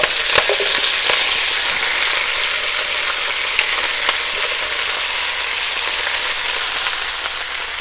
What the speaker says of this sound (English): You can literally hear it sizzling.